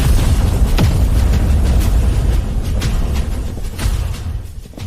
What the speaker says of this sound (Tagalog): Ang lalaking ito ay sumabog na lang bigla.